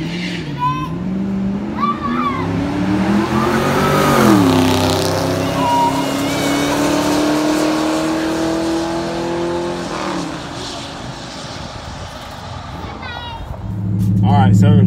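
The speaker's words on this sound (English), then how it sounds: "when that hit, I spun off the line and I was spraying it, so it bogged the car down pretty good" A cheap repo drag car launches off the line, spinning its tires and bogging down, its loud engine note rising and sagging in pitch for several seconds while voices speak around it.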